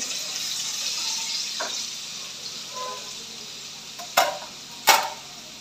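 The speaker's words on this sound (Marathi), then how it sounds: "कांदा व्यवस्थित फ्राय करून घ्यायला पाहिजे।" Onion frying in oil in a pan for anda bhurji, a soft steady sizzle with a few sharp utensil clinks and scrapes near the end, no talking.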